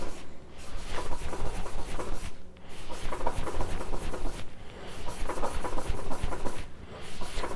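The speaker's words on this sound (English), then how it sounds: "You need to just let the knife sit on the stone." A kitchen knife blade rubbed steadily back and forth across a sharpening stone to thin it, a close, continuous rasping scrape in even repeated strokes with brief pauses.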